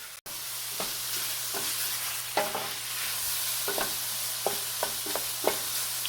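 Italian sausage frying and caramelizing in a pan, a steady close hiss broken by scattered scraping and stirring clicks, with no talk.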